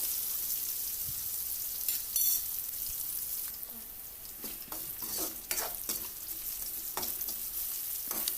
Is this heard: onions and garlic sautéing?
yes